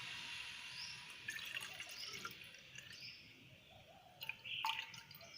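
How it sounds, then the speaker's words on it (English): Distilled water trickling and dripping into a glass measuring cylinder in a microbiology lab, a faint, close liquid sound with soft splashes and drips, quiet and without talk. "so we will exactly draw distilled water 100 ml."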